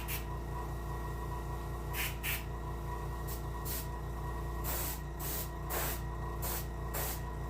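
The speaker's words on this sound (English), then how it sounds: "you want to angle spray just to, to" Short hissing bursts of spray paint on the fin of a brook trout taxidermy mount come in a loose series over a low steady hum, some longer, some brief, fairly close.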